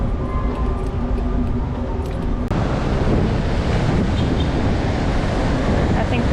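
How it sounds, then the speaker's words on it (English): Caribbean ocean waves surging against a coral rock wall on the Cartagena coast in Colombia, under strong gusting wind buffeting the microphone, a loud continuous roar throughout. "I think the waves go without saying. It is crazy windy."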